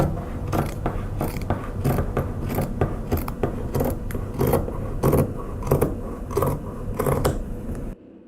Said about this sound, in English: I need to cut the neckline.